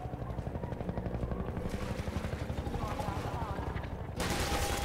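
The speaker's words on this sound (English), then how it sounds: "Helicopter." A helicopter's rotor chops steadily close by amid dense rapid gunfire and mechanical game noise in Half-Life 2, growing louder toward the end.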